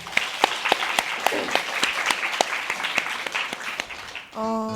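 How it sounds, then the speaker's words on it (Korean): Audience applause at a literary reading event at an arts high school: a few seconds of steady, moderately loud clapping with distinct individual claps, ending abruptly. "박수로 청해 듣도록 하겠습니다"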